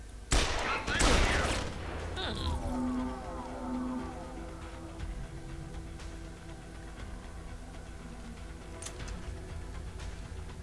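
Gunfire in Deus Ex: Human Revolution fired through a wall, opening with a loud burst of rapid shots and then settling into a steady mechanical hum with faint scattered sounds.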